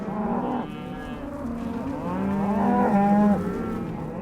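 Cattle low and moo repeatedly in a livestock handling facility used for brucellosis testing, with several overlapping calls, some close and loud, rising toward the middle and continuing without talk.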